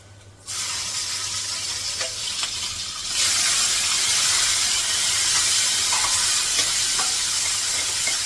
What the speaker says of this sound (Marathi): मोहरी तडतडली इकडे जिरा लसूण